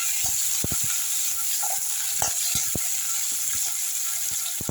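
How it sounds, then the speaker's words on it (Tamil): Onions and tomatoes sauté in a pan for a South Indian lentil kuzhambu, giving a steady close sizzle with scattered soft clicks and scrapes of stirring throughout. "வெங்காயம் நல்லா வதங்கிருச்சுங்க இதில் வந்து தக்காளி போட்டுக்கலாம் தக்காளியும் சேர்ந்து நல்லா வதங்கிட்டோம்"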